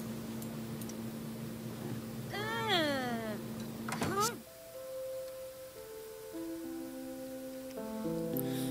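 A cat in The Sims 3 gives one drawn-out, wavering meow over steady game music and background hum. Talk is heard before it, and a new musical passage follows.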